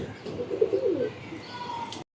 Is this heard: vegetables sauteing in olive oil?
no